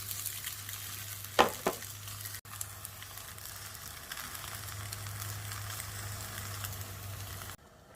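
Eggy bread frying in a pan gives a soft steady sizzle with a low hum underneath, a brief clatter early on, then continuous quiet frying.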